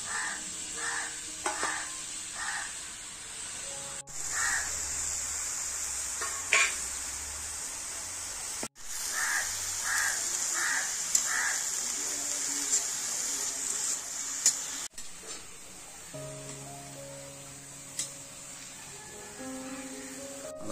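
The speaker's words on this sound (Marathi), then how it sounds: "आपण हा पाला भाजून घेऊया चांगला।" Drumstick (moringa) leaves dry-roasting in a pan give a faint, steady sizzle and hiss, with intermittent stirring scrapes and light clinks of utensil against metal, heard close with no talking.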